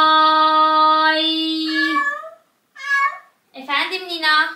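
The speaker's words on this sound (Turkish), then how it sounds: "Çocuklar, burada benim siyah bir kedim var, miyavlayıp duruyor." A black cat meows: one long, drawn-out, loud meow that bends downward, then two shorter meows after brief pauses, close and clear with no talk over them.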